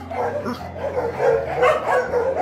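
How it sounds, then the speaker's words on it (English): Several dogs at a dog shelter in Poland bark and yip overlapping one another, a busy, close chorus of barking with some whining mixed in. "They have many dogs."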